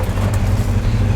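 A truck engine idles close by, a loud, steady low rumble with an even throb and no other sounds.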